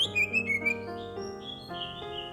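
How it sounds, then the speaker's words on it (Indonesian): A cucak ijo, or green leafbird, sings a run of bright whistled phrases that rise and fall in pitch, loud and close, with no other sounds. "Seperti cucak hijau ini"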